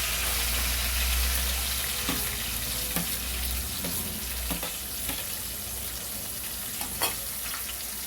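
Sliced onions sizzle steadily in hot oil with curry leaves and green chillies for a Tindora fry curry, a dense continuous crackle broken by a few soft spoon scrapes and stirs, close and alone with no voices.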